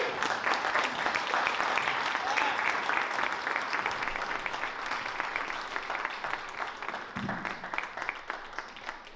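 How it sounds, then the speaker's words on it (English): Sustained audience applause fills the room at a poetry conversation event, a steady dense wash of many hands clapping that holds loud for the full stretch and eases slightly toward the end. "I'd be remiss if we didn't give another round of applause for Zakiya."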